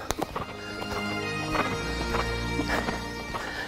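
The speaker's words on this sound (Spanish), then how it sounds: "No se puede el caballo acelerar, tiene que ir con cadencia." Horse hooves clip-clop in a steady, even cadence during reining training, the beats close and distinct with a few louder strikes over faint background noise.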